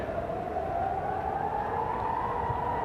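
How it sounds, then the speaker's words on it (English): Air raid sirens wail across Tel Aviv during Iranian missile attacks, one long, slowly rising tone held steady over a constant distant wash of noise. "Air raid sirens continue to ring out across Tel Aviv"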